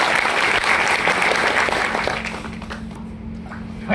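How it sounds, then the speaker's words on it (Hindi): An audience applauding loudly to welcome Subrat Sir from Prayagraj, dense and sustained at first, then thinning and fading to a low murmur with a faint hum. "एक बार और जोरदार तालियों से स्वागत कीजिए।"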